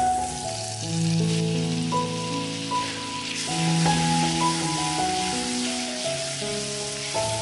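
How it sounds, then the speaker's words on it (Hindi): Amul butter and a spoonful of oil sizzle in a hot kadhai, a steady crackling hiss running throughout beneath a melodic instrumental tune. "सबसे पहले मैं कढ़ाई में डालूंगी 1 चम्मच तेल और ये है अमूल का बटर, ये मैं डालूंगी 1 बड़ा चम्मच"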